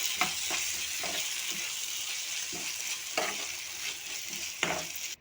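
Tomato cashew paste sizzles steadily in a hot pan while a spoon stirs and scrapes through it in repeated close strokes, with no talking.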